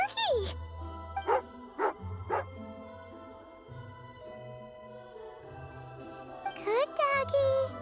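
A dog in the Genshin Impact video game barks and yips while eating jerky, a few short bright barks spaced apart, then a quick cluster of yelps near the end, with a jingling tone and quiet background music.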